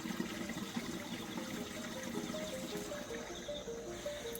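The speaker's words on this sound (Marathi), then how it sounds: "दगडाच्या आत ना पाणी वाहतं आवाज मी ऐका तुम्ही" Water runs hidden inside the rock at Korigad (Koraigad) fort near Aamby Valley, giving a steady, continuous broadband rush with faint tonal calls over it, even in level throughout.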